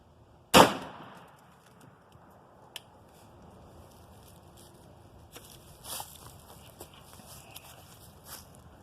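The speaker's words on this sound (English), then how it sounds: "this first shot is going to be the low brass 26 grains 12 gauge slug" A 12 gauge low brass slug is fired once outdoors, giving a single sharp, loud crack that decays quickly, followed by faint footsteps and light rustling.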